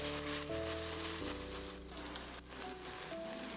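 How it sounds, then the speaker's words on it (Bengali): Ginger garlic paste sizzles steadily while frying in a pan for a homemade Rui fish dish, a continuous loud crackle with a faint tonal hum underneath and no talk. "আদা রসুনের কাঁচা গন্ধটা না যাওয়া পর্যন্ত একটু নেড়ে নেবো ভালো করে। একটু ভালো করে ভাজা ভাজা হোক,"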